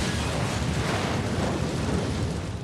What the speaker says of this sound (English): the fire reached the oil tanker and triggered a second explosion.